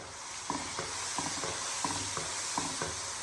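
Masala and tomatoes stirred in a frying kadhai for chicken pulao, a steady close sizzle with regular scraping spoon strokes about every third of a second.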